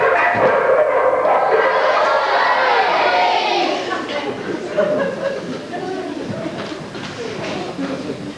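Several dogs bark and yip excitedly at a church pantomime stage performance, a busy overlapping chorus that is loud at first and then eases off, with voices mixed in.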